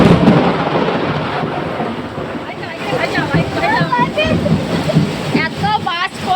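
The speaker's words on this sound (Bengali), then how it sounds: "এত বাজ পড়ছে গাইস যে আমি নিজেই চমকে যাচ্ছি" Heavy rain pours steadily with deep thunder rumbling through it, and sharp bird-like chirps and whistles cut in over the downpour in the later seconds.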